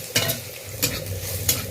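Raw banana stem being fried and stirred in an iron wok, a steady soft sizzle with three sharp scraping strokes of the spatula spaced evenly through it, no one talking.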